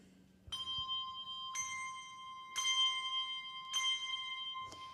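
Handbells rung four in hand by a single ringer with crossed bells, bright ringing strikes in an even sequence of about five at roughly one-second intervals, each tone sustaining and overlapping the next, clear and close in a church setting.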